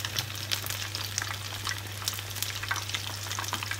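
Batter-coated onion frying in hot oil over high heat, giving a steady close crackling sizzle with faint stirring scrapes throughout and no talking.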